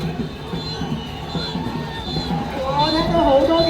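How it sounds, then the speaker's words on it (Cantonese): A crowd cheers at a Hong Kong international dragon boat race, with shouts and whistles rising into a louder, sustained roar toward the end, mixed with babble and excited voices. "我聽到好多嘅歡呼聲音啊！"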